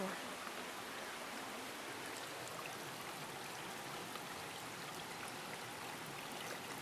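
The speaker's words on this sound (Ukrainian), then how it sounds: "крихітний потічок вибіг сюди навіть на дорогу." A tiny stream of water spilling onto a road on a trip to Baden-Baden, heard as a steady, even rush and trickle, close and constant throughout with no talking.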